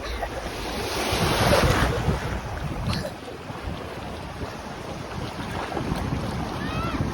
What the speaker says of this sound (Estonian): Meeldivad sulle lained või?